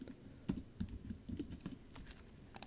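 Keys on a computer keyboard are tapped in a short, irregular burst of soft, close clicks, quiet overall with brief pauses between strokes.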